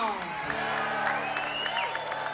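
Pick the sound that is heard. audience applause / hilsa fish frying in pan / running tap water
audience applause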